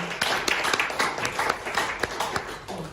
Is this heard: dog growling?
no